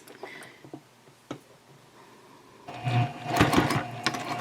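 A sewing machine stitches along the top edge of a round-bottom fabric basket, starting quietly with a few faint ticks before the motor runs loud and close in a dense, steady whir from about midway on.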